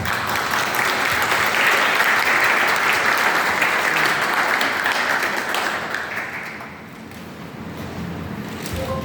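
A book presentation audience applauds loudly with dense, continuous clapping filling the room, tapering slightly toward the end.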